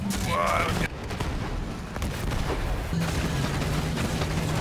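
Loud pump shotgun gunfire in the video game Borderlands 3, with booming shots and blasts over a dense, noisy background, with voices talking through it.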